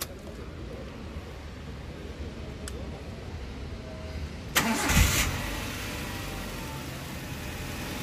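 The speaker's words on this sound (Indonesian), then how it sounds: "Kita start dulu ya sambil nanti kita lihat mesinnya seperti apa." A 2008 Suzuki APV SGX starts with a sharp burst of cranking and catch, then settles into a steady, moderately quiet idle, heard close by with no one speaking over it.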